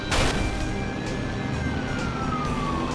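Police car siren in the video game Watch Dogs, a loud wailing tone that sweeps slowly up and down and runs continuously for several seconds with no talk over it.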